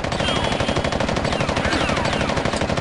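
Rapid, continuous automatic gunfire from the video game Fighting Force, loud and dense with sustained bursts throughout.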